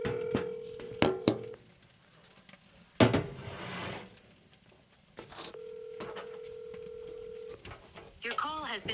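Telephone call audio with sustained ringback tones, separated by clicks and clatter, before a chiming recorded message begins near the end; the tones sound steady and fairly close.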